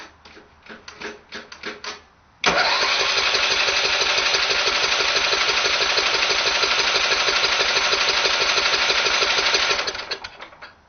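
A cold 10 hp go-kart engine is cranked without catching: a few short puffs come first, then a sustained, fast rhythmic chugging churn that runs for about seven seconds before cutting off, close and loud.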